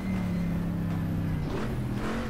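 A 1970s Corvette C3 engine drones steadily in the GTR2 racing game at Sebring, holding a loud, continuous tone with a brief dip and rise in pitch partway through.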